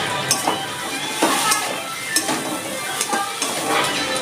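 Chicken pieces cooking in a hot pan with ground roasted coriander and cumin, a steady close sizzle broken by several scraping stirs and light clinks of a utensil against the pan.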